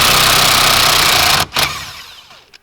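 A Snap-on impact gun spinning out the steering wheel bolt on a Honda Civic, a loud close burst of hammering whir that stops abruptly, briefly revs again, then winds down and fades.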